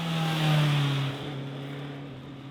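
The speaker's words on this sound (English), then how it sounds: "a fine 4-cylinder sound immediately caresses your eardrums after pressing the start button" A Honda four-cylinder motorcycle engine idles steadily at close range with a smooth, even hum, swelling slightly early on before settling to a constant drone.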